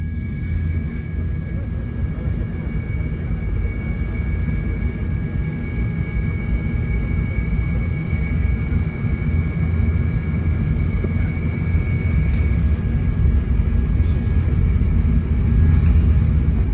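From inside an old Tupolev airliner climbing after takeoff, a dense, loud engine rumble with a steady high whine holds throughout and swells slightly toward the end, with no talk.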